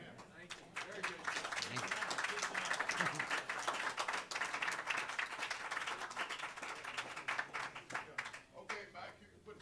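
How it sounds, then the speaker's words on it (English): A church congregation at a barbecue-restaurant worship and Bible study gathering claps for the Lord, with dense, steady applause filling the room for several seconds while voices talk and call out over it. "Give the Lord one more time a hand clap"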